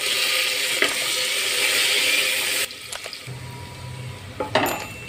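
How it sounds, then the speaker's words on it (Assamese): Chopped onion frying in oil with a bay leaf and green chillies for bamboo shoot curry, a dense, close sizzle that suddenly quiets, followed by a few scraping stirs. "পিঁয়াজখিনি মই ভালদৰে ৰঙা হোৱাকৈ ভাজি আছোঁ।"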